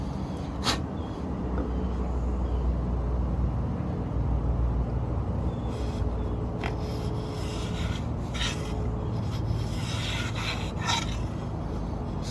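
A Jorgensen No. 60-1/2 block plane shaves hard white oak on a workbench, a steady rasping scrape running throughout with a few sharper strokes standing out, close and fairly loud with no talking.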